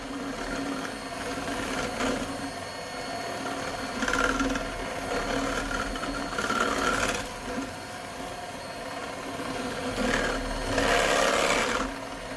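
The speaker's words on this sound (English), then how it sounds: "If you notice, as it whisks, it gets thicker." An electric whisk whipping cream, a continuous mechanical whir with a rattling edge that swells and eases as the mixer moves through the thickening cream, close and steady with no talk.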